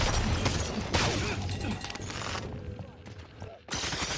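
Heavy gunfire in Call of Duty Vanguard or Warzone, a dense and loud fusillade of overlapping shots that thins out briefly near the end and then resumes, with voices mixed into the chaos.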